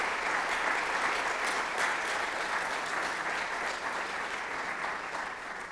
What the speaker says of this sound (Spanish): por favor, les pido un aplauso